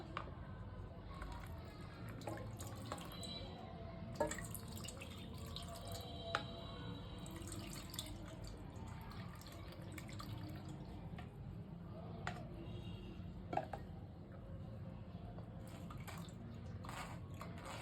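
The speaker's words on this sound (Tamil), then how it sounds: "நம்ம இப்ப ஃபில்டர் பண்ணிக்கலாம்." Spiced buttermilk drink (neer mor) straining through a kitchen filter, a steady soft trickle and faint dripping under low room noise with occasional small clinks, close and quiet throughout.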